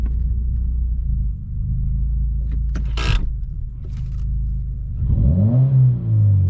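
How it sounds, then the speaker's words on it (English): Heard from inside the cabin, a modified Subaru WRX idles with a deep steady rumble, a brief sharp blip partway through, then the engine revs up strongly near the end, rising in pitch and loudness. "let's get some exhaust clips revving the car from inside"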